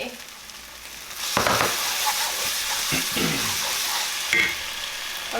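Food hits hot olive oil in a pan, where a quiet hiss jumps into a loud, close sizzle that carries on steadily with occasional stirring scrapes.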